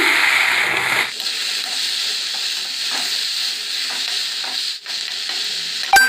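Steady sizzling and frying as taro stolons are stir-fried in a pan, with occasional stirring scrapes and a soft clatter near the end.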